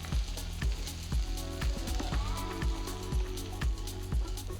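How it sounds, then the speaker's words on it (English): Okra pieces fry in a pan with masalas and curry leaves, a steady close sizzle with a regular rhythmic clacking, likely stirring against the pan, throughout with no talking. "Now fry the pieces for 10 more minutes after you add the masalas."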